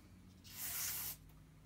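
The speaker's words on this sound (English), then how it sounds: "we'll spray that out with some carb cleaner." A short burst of carburetor cleaner sprayed from an aerosol can onto a lawn mower carburetor, a close, breathy hiss lasting about half a second under a faint low hum, with no talk.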